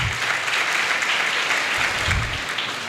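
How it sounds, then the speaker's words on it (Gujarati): Loud, dense applause for a participant fills a large hall, steady throughout with a brief swell near the end. "રૂચાબેન માટે તાળીઓ જોરથી."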